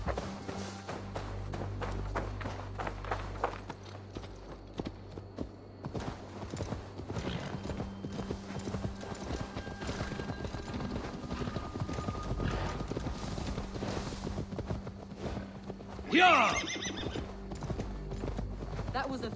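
Horse galloping with rapid rhythmic clip-clop hoofbeats in Assassin's Creed Valhalla, over game ambience and music, with a sharp neigh near the end; people talk over it.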